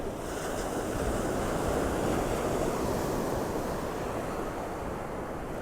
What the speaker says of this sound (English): Then all of a sudden you'll get some really big waves coming.